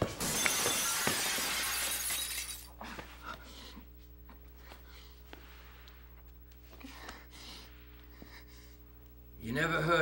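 Glass shatters loudly at the start in a stage play, followed by scattered small clinks of pieces falling onto a sidewalk and quiet voices in a hushed room.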